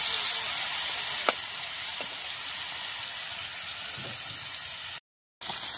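Koli-style fish frying in hot oil, a steady close sizzle and hiss with a few faint clicks, briefly cutting out near the end.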